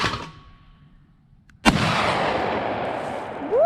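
A 12-gauge shotgun fires once at a skeet target on an outdoor private range, a sharp loud blast followed by a long rolling echo and tail.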